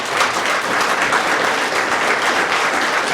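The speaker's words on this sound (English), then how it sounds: "let's give these two a round of applause." An audience at a chiefs' panel applauds the two panelists, giving dense, sustained clapping from many hands that holds steady for about three seconds.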